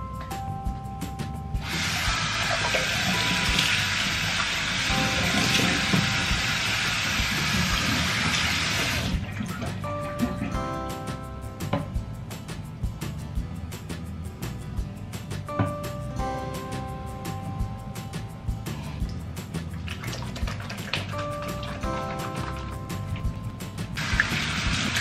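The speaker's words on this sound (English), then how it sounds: "Okay, let's wash my face." A tap runs steadily and loudly for several seconds during a face wash, then gives way to softer splashing and dripping water with intermittent gushes, close by and without talking.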